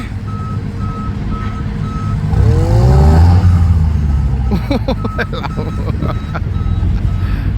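A large new tractor's engine swells into a loud rev midway, then settles back to a rumbling idle, with steady reversing beeps sounding and people talking nearby.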